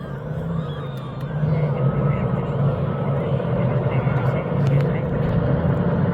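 North River jet boats roar steadily at a kids' day fishing derby on a river, a loud continuous engine drone that swells partway through, with talk heard in the mix.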